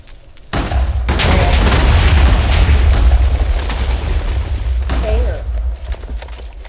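A TNT block detonates in Minecraft with a loud, close boom that swells fast and rumbles on for several seconds, a second burst landing near the end as the blast decays.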